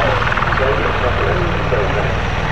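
The Avro Vulcan XH558 bomber flies at the Farnborough International Airshow 2012, producing a continuous, dense engine roar heard at steady loudness beneath a commentator's voice.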